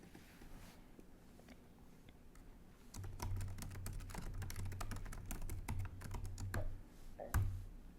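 Rapid keystrokes clatter on a computer keyboard while a form field is edited, soft at first, then a steady burst of close clicking over a faint low hum, with no voices.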